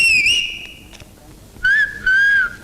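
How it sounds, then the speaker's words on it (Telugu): A police whistle blown in several sharp, loud shrill blasts, a long falling tone first and then two sustained bursts, with brief quiet gaps between. "ఇది మామూలు విజిల్ కాదు పాప, పోలీసు విజిల్."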